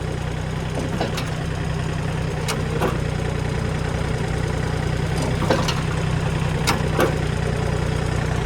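A Yanmar 35 hp tractor engine idles without being revved, giving a steady, close low rumble with a constant hum throughout and a few light clicks and knocks scattered across it.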